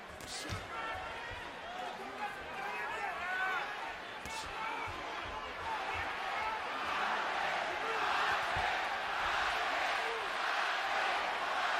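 A large boxing arena crowd cheers and roars steadily through a Bradley versus Marquez fight, swelling louder toward the end, with a commentator talking over the din.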